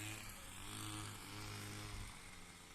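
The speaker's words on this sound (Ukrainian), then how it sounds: "Це поки болото, взялися обкошувати межі." Grass being mowed along the edges of a wet field with a motorized trimmer or mower, a steady buzzing engine drone, faint and distant, running continuously without talk.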